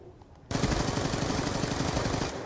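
Rapid automatic gunfire from Call of Duty Black Ops 2 in a team deathmatch bursts in abruptly after a quiet half second. A close, loud, steady stream of shots then runs for about two seconds.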